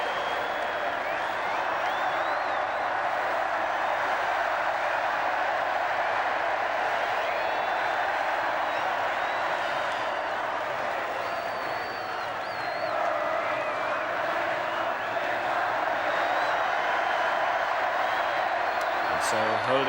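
A vast crowd outside Buckingham Palace cheers at the 1981 royal wedding balcony appearance of Charles and Diana, a steady distant roar of voices and applause heard beneath a commentator speaking.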